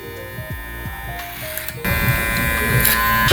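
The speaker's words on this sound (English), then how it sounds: "I'm just gonna go clipper over comb." Electric hair clippers buzz steadily and close while cutting hair clipper-over-comb in a barbershop taper fade, the motor tone shifting and growing louder partway through as the blades meet hair.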